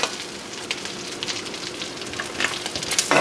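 Shrimp fry in hot oil on a Weber Ranch grill, a close, crackling sizzle that runs continuously and swells slightly toward the end.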